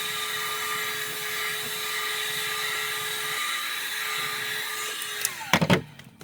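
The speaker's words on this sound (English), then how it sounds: "So I'm just going to go around and heat up this a little bit." A heat gun blows a steady whining roar while warming adhesive on a Jeep stereo part, holding constant for several seconds before cutting off with a few clunks and knocks near the end.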